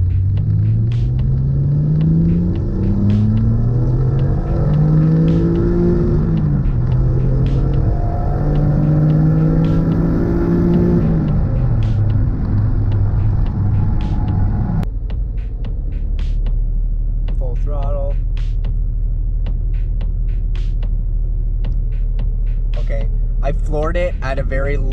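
Car engine on a street-tuning data-log run, pulled from very low RPM at full throttle, a loud rising engine drone sweeping up in pitch, dropping and climbing again, then a steady rumble with some voice underneath.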